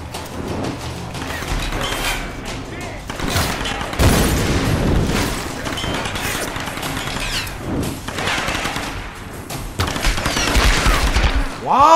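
Gunfire in the PS4 Tomb Raider reboot: bursts of rapid shots and heavy booming hits that keep coming for the whole stretch, loud and dense, with a stronger surge of fire about a third of the way in.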